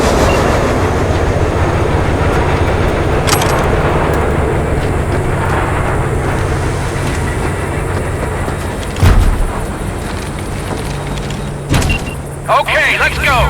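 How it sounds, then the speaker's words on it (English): A train pulls away in the video game Cyberpunk 2077, a loud, continuous rumbling roll that eases slightly over time, ending with a few sharp clunks and mechanical clatter near the close. "All right, the train's leaving."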